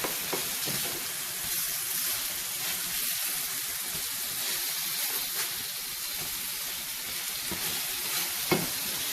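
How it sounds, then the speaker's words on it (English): Sausage patties sizzle in a frying pan, a steady close crackling fry with faint spatter pops and one brief clatter near the end, no voices. "Go ahead and get your patties flipped."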